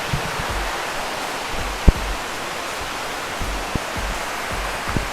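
Mae Klang waterfall in Chiang Mai roars as a steady, dense wash of falling water, with a few faint knocks and splashes close by.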